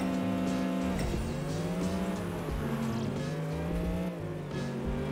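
A Renault RS car engine revs hard in the racing video game Apex Racer, a steady synthetic drone with shifting pitch and brief tire squeals, heard alone at a moderate level.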